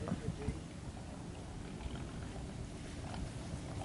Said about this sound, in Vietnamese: Ồ ghe này đang kéo ốc